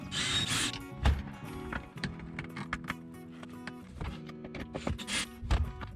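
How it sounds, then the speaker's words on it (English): Four screws are driven to mount a replacement water pump inside an RV. The result is a run of close ratcheting, whirring mechanical bursts and clicks, starting and stopping irregularly, with no talk. "Now we can install the 4 screws that mount the pump into the RV."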